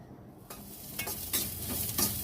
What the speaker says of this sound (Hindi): फिर देखिए इसके बाद में मैं फ्राई कर रही हूँ सोयाबीन